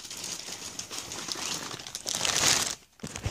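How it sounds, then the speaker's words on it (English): A plastic shopping bag rustles and crinkles up close for a few seconds, with a louder burst of crumpling near the end before a brief pause. "Sorry for the bag shuffling"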